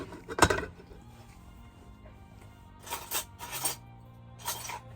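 Metal spoons clink as they are pulled out in an RV kitchen, a sharp rattle near the start followed later by a few brighter clinks, close and fairly quiet with no talking.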